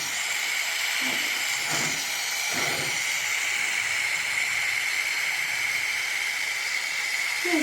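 A gas torch hisses steadily during goldsmithing work, a continuous loud rushing noise, with a few faint clinks and soft knocks in the background and no speech.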